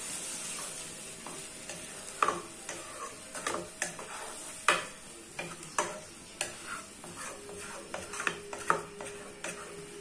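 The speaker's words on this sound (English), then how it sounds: "So now we are going to stir." Scrambled eggs stirred in a frying pan, with a soft background sizzle and a series of distinct utensil taps and scrapes against the pan at an irregular, unhurried pace, close and fairly quiet.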